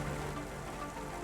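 Steady rain in the video game Cloudpunk, a dense, even wash of hiss and patter that holds at a constant level throughout, with no voices.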